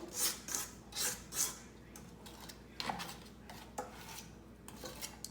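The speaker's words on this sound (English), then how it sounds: "I'm going to scrape in my my batter to the bottom of the bowl" A utensil scraping chocolate chip cookie batter down to the bottom of a mixing bowl, several close, quiet rasping strokes followed by softer scrapes and taps.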